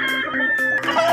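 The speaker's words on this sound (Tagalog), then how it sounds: "Ito po yung panlima nating manok" A gamefowl rooster at a game farm in the Philippines gives a close, loud crow with clucking, alone for about a second.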